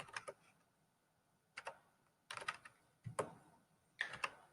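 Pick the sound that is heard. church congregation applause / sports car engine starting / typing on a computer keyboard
typing on a computer keyboard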